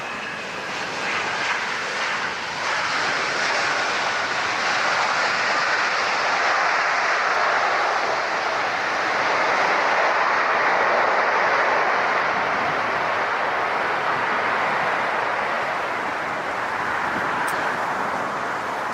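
A Japan Airlines jet airliner at LAX roars loudly and steadily throughout, a broad sustained engine rumble that swells slightly in the middle as it passes close by, with no voices.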